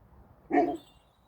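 A single short dog bark rings out close by against a quiet background.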